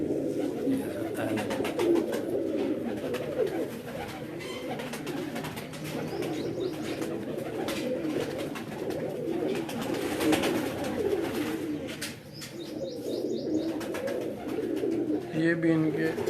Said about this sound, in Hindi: ये भी इनके टूर्नामेंट में उड़ने वाला कबूतर है जी